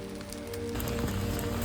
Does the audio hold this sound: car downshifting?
no